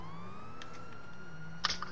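A wailing ambulance siren from a GTA roleplay game holds a steady, gliding tone throughout, fairly quiet and continuous, with a brief sharp click near the end.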